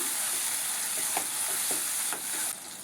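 Chopped tomatoes sizzle steadily in hot oil, with a few soft stirring scrapes breaking through before the frying hiss drops slightly near the end.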